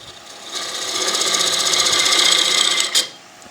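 A woodturning gouge cuts spinning wood on a lathe while a storage tray is turned, a close, rising buzzing rasp with a rhythmic chatter that swells, peaks with a brief knock, then fades.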